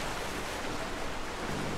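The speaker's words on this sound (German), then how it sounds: "Warte mal, hier ist ein Wasserfall." A waterfall in the game Rise of the Tomb Raider gives a continuous broadband rush of falling water. The hiss is steady and fairly soft, with no other sounds over it.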